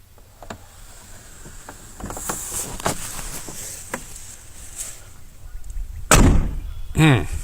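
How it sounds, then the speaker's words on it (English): A truck door shuts with a solid thunk near the end, with another softer knock just after it. Before that comes quiet shuffling and light clicks in a shop, with a voice speaking. "Listen to that door."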